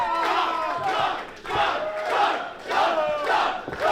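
A crowd at a women's wrestling show cheers and chants in loud rhythmic waves that rise and fall about once a second, filling the arena.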